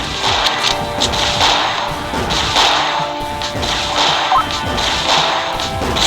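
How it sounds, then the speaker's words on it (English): A rocket launcher fires repeatedly in the pixel-style game Pixel Gun Tower Defense, loud whip-like blasts and cracking impacts that repeat rapidly in an irregular rhythm over busy game noise. "Just firing his rocket launcher."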